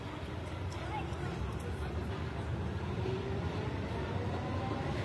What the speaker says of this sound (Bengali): এই হলো প্যারিসের মেট্রো এবং মেট্রো স্টেশন